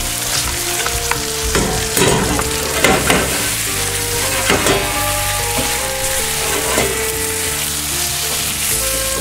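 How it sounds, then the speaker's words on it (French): Fresh pasta tossed with porcini mushrooms in a hot buttered pan, a continuous loud sizzle broken by scraping stirs and utensil knocks, with a background tone running underneath. "je mélange mes pâtes avec mes champignons"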